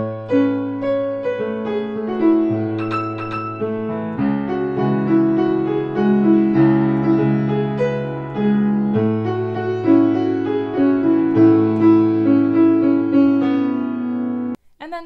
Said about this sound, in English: So it's just two octaves right here up on the E, so it'll sound like this.